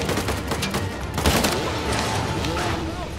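Gunfire in Uncharted: The Lost Legacy crackles in quick bursts over a steady loud battle din, with a voice speaking underneath.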